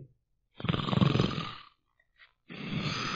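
A voice imitates snoring with a rough, rattling inhale, a pause, then another drawn-out snore, close and moderately loud.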